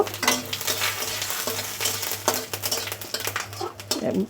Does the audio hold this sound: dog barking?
no